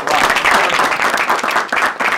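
A round of applause from a team-building training group, dense steady clapping from many hands filling the room at close range without pause.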